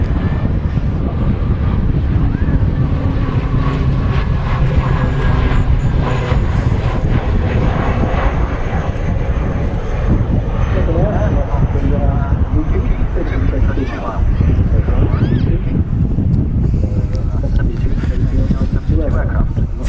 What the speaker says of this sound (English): There's Logan Air using the runway right now. I think it's departing.